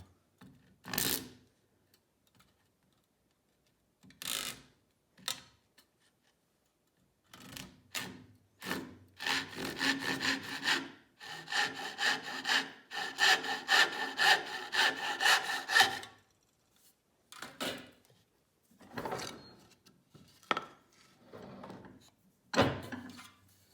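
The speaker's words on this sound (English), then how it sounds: "with my dovetail saw" A dovetail saw cuts by hand through wood for dovetail joints, its strokes heard as short isolated bursts and then a sustained run of rapid rasping passes, close and clear with no talking.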